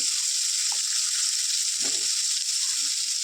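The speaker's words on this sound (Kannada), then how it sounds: "ಈರುಳ್ಳಿ ಸ್ವಲ್ಪ ಹೊತ್ತು ಫ್ರೈ ಆಗಲಿ" Onions for upma fry steadily in a hot pan, giving a continuous bright sizzle throughout with a brief low scrape of stirring midway.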